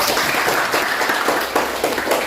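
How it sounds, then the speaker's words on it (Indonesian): A classroom audience applauds a student after a question in an Indonesian-language lesson, a brief burst of steady, fairly loud clapping from many hands with no speech over it. "Tepuk tangan dulu untuk Aldo."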